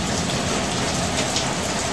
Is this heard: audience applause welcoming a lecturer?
no